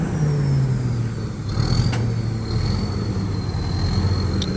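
A new Isuzu diesel engine runs on a rice harvester, a loud, steady, close drone with a low hum and a faint high whine over it, no voices.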